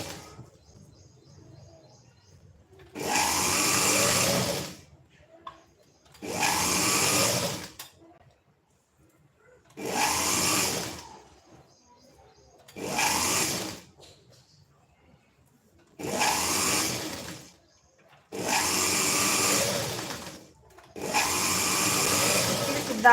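A sewing machine stitches a size-34 prince-cut blouse in seven short, loud runs of about two seconds each, with brief quiet pauses between them.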